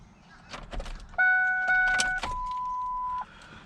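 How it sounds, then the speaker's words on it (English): An ignition key turned a couple of times on a red Ranger after a top-end overhaul, priming the fuel pump: a soft key rattle, then a steady electric whine that holds for about two seconds and stops, fairly close. "I'm gonna turn the key a couple times, see if we get that fuel pump to prime"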